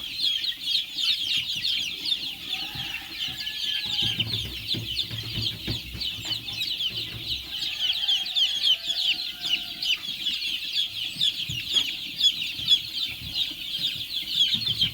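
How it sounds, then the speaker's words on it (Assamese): Chicks and chickens cluck and chirp continuously in a poultry shed holding about 1,600 five-day-old chicks, a dense, steady chorus of high peeping with occasional low clucks and rustling throughout. "ইয়াতে পোৱালি আছে আপোনাৰ 1600 পোৱালি আছে।"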